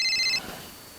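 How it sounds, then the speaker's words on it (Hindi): A telephone gives a short electronic ring that cuts off after a fraction of a second, leaving faint room noise. No one speaks. "उठाओ वही फोन।"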